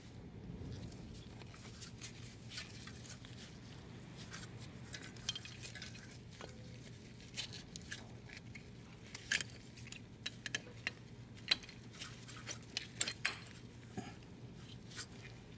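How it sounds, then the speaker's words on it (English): A new rear brake pad for a Mercedes E350 clinks and taps against the caliper as it is fitted, giving sparse metallic ticks over a low steady hum that grow busier toward the end. "we're gonna install this pad on the caliper"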